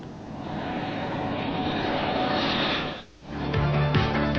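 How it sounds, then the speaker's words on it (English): An A-7 Corsair attack jet of an Air National Guard squadron roars steadily and loudly, its engine noise dipping briefly before another engine rumble takes over, with no talk. "USAFE also hosts American Air National Guard squadrons flown in from the United States, such as these A-7 Corsair attack aircraft."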